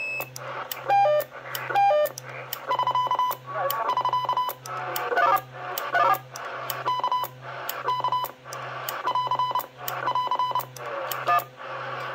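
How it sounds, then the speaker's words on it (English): Repeating short electronic CB radio roger beep tones from an Astatic Mobilemax, chirpy beeps and melodic blips over a steady low hum, each burst separated by brief pauses. "Roger beeps."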